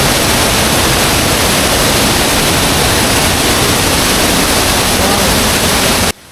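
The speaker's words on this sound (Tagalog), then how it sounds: "Lakas ng agos." Strong current of Bukal Falls, a waterfall in the forest at the foot of Mount Banahaw, roaring as a loud, steady, dense rush of water that cuts off abruptly near the end.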